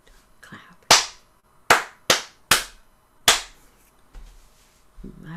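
Hands clap a short rhythm in a music class, five sharp, close claps in an uneven pattern of two quick pairs and a final clap, with quiet pauses between them.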